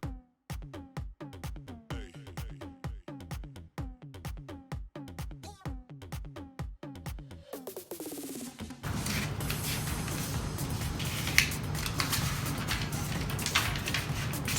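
Scissors cutting a paper bodice back pattern, a series of crisp rhythmic snips close by, giving way to a steadier rustling, scraping noise of paper being handled.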